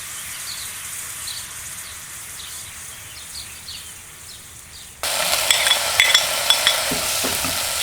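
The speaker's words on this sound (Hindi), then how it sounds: "खसखस डालें और 10 सेकंड तक फ्राई करें।" Poppy seeds frying in hot fat with steady stirring, a soft hiss that jumps to a loud, dense sizzle partway through, with brisk scraping strokes and crackles near the end; no talking.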